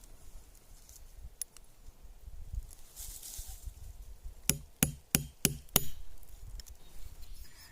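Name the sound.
hammering a nail into nopal to make holes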